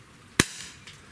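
A Daisy Powerline 408 CO2 pistol fires a zinc BB, one sharp close crack followed by a short ringing decay and a faint later tick.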